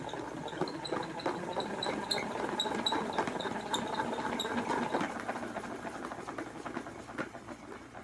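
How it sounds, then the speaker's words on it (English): A salad spinner is spun by hand during a preschool activity at home. A steady whirring rattle with rapid ticking runs for several seconds, then eases off and quietens toward the end. "the children might need some help holding on to the salad spinner while you spin it"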